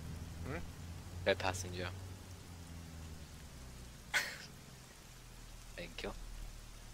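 Steady rain falls in a video game, a constant hiss of drops heard throughout beneath a low engine hum, while a person speaks briefly over it.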